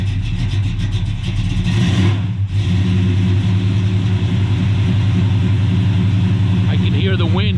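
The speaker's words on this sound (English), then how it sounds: "Listen to this car." A Hellcat widebody car engine runs loud and close, holding a steady deep rumble with a brief drop in revs midway, then a short climbing rev near the end.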